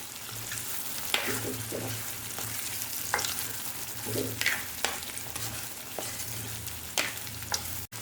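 Bitter gourd pickle mixture stirred in a pan, a soft continuous sizzle with repeated scraping strokes of the spoon at an irregular pace, close by and moderately loud, with no talking.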